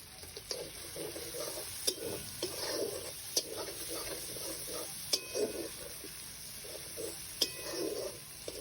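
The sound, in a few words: spice paste with Kashmiri chilli frying in oil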